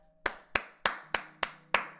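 A single pair of hands claps six times at an even, steady pace, each sharp crack close and distinct against a quiet background with no talking.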